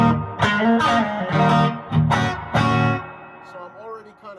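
An electric guitar plugged straight into an amp with a clean tone strums several ringing chords in a loose rhythm, each one left to sustain and fade. It sounds loud and close, with nothing else over it.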